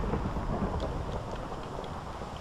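Steady rain falling on a beach in Minecraft, a continuous soft hiss of drops with faint patters above it and no talking.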